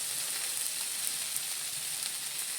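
Fish curry with chilli powder sautéing in a wok, a steady broadband sizzle that holds evenly close by throughout, with no talking.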